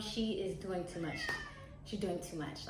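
A pet cat meows in the background during an indoor vegan Thanksgiving cooking session, several short cries mixed in with someone talking close to the microphone.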